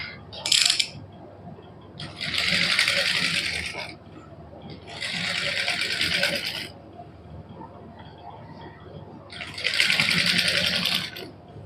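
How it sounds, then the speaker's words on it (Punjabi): A domestic sewing machine stitches cotton suit fabric in a Punjabi boutique, running in three loud bursts of rapid whirring separated by quiet pauses, close and alone. "ਹੁਣ ਇਸ ਤਰ੍ਹਾਂ ਨਾ ਇਹਨੂੰ ਮੁੜ ਕੇ ਆਪਾਂ ਉੱਪਰ ਸਲਾਈ ਲਾ ਦਿੰਦੇ ਹਾਂ"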